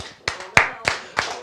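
Five sharp, close hand claps land in an even, brisk rhythm with quiet gaps between them.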